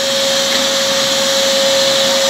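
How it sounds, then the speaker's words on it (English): A vacuum cleaner runs continuously at close range, giving a loud, steady motor whine with a sharp constant tone and airy suction hiss, and nobody speaks. "does his hoovering?"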